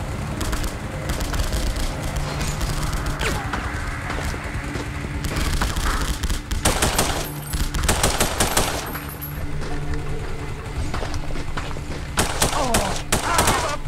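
Bursts of automatic gunfire in The Punisher on the original Xbox, dense rapid shots layered over a steady game soundscape with ambient bird-like chirps, no clear talk.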